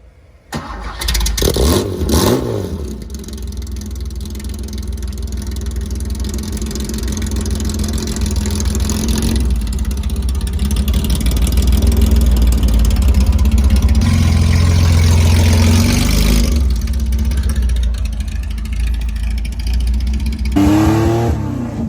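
A straight-piped classic Porsche 911T fires up with a loud crackling start, then idles and revs unmuffled. The throaty engine note swells and falls, close and steady, throughout.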